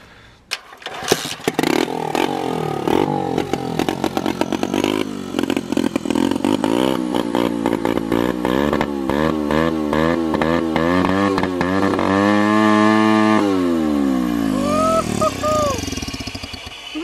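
A turbocharged Loncin engine revs hard for the whole clip, loud and close, its pitch climbing and falling through repeated rises before it drops near the end.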